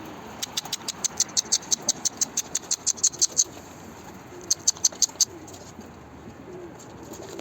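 Short bright bird calls in a quick repeated series, then a brief pause and a shorter burst, over a low steady rumble of background noise.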